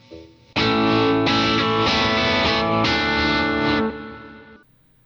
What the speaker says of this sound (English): Too distorted, and the tremolo is way too deep.